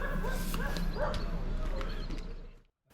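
A dog at Damems station on the KWVR heritage railway yelps and barks a few times in quick succession, close and fairly loud over steady background rumble.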